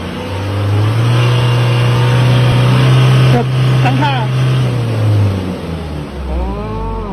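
A car engine revs up as the accelerator pedal is pressed, fitted with an Evo Extreme electronic throttle box; a loud sustained rev, then it drops back, with someone talking over it.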